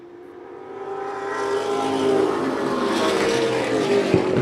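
Stock cars race on a short track, a loud steady roar of several engines held close together that swells as they bunch up, with no talk over it.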